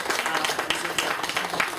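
An audience bursts into dense, rapid applause, the crowded claps ringing out close and lively for a couple of seconds.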